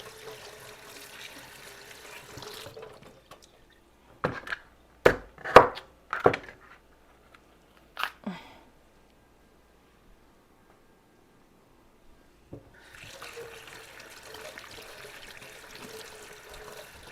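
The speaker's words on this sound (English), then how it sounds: "Rinse out the seeds on the inside" Tap water runs into a kitchen sink while seeds are rinsed out of tomatoes. The soft, steady rush is heard at the start and again at the end, with a few sharp knocks on a board in between.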